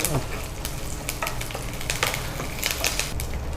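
Curry leaves and chana dal frying in hot oil for a tempering of curry-leaf chitranna, a steady close crackling sizzle with brief stirring scrapes throughout.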